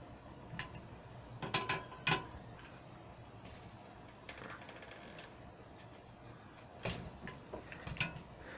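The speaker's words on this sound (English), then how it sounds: "I'm actually going to tighten this top Allen screw in the steer tube cap as tight as I can possibly get it" An Allen screw in the steer tube cap of an 80cc/66cc motorized bike is tightened; quiet, irregular metallic clicks and ratchet-like ticks come in small clusters against a faint background, with no talking.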